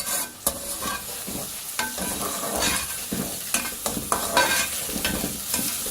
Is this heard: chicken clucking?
no